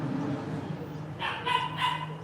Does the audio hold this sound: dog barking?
yes